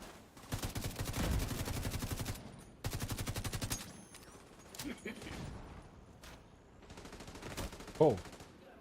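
Automatic gunfire in The Division 2 comes in several loud, close bursts with quieter gaps between, and a short spoken voice cuts in near the end.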